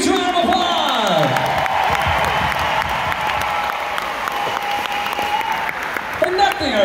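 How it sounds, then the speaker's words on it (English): A concert crowd bursts into loud applause and cheering for the local string players, a sustained wash of clapping and whoops with voices mixed in. "give your own strings a huge round of applause"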